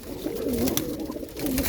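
Pigeons coo close by in soft, rounded repeated phrases, one dove-like call after another.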